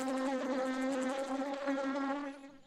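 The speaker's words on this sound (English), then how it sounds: "The bee is collecting nectar from the flowers." A bee hovers close by near flowers, giving a steady, loud buzzing drone that holds nearly level throughout and fades slightly at the end, with no voices.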